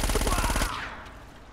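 Rapid automatic gunfire in Uncharted: Drake's Fortune, a dense burst of shots lasting under a second that cuts off into a fading echo.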